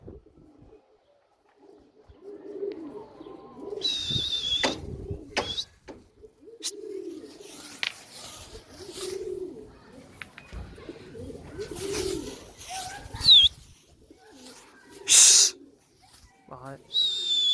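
Pigeons on a rooftop coo in low, repeated bursts, close and clear, with intermittent wing flaps and brief higher chirps scattered through, and quiet pauses between calls.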